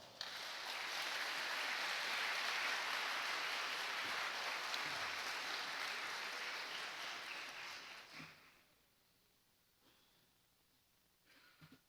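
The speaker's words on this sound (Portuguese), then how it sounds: "ao qual solicitamos uma calorosa salva de palmas." Forum audience in São Paulo applauding a Brazilian Navy speaker, a soft, sustained wash of clapping that fades out after about eight seconds into near quiet.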